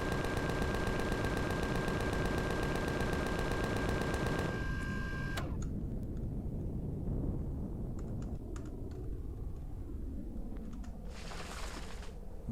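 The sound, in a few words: gunshots in Empyrion video game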